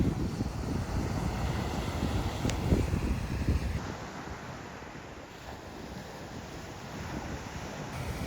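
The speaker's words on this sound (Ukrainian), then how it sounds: "Море." Sea waves rolling onto a deserted shore with wind gusting across the microphone, a steady broad rush that swells at first and then settles to a softer, even wash, no one talking.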